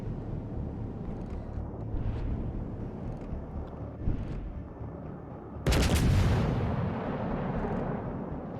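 Warship guns fire in World of Warships: Legends, a sudden heavy boom breaking over a low rumbling background, followed by a long rolling tail, with fainter thuds before it.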